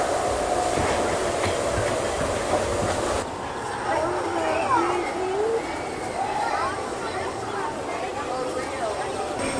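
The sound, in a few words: Disneyland monorail riding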